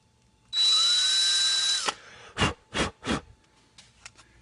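A power drill bores into a 3D printed stake bed part to clear leftover printing powder, whining loudly for over a second inside a garage before three short, sharp follow-up bursts and faint scraping.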